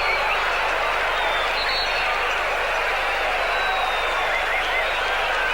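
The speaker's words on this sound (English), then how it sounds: "ironic applause for the referee there" A stadium crowd at a 1993 Copa América football match between Brazil and Paraguay gives the referee a sustained, ironic round of applause, a dense, even roar of clapping with a commentator talking over it.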